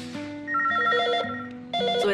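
A telephone rings with bright electronic trills in short bursts, loud and close, with no one speaking.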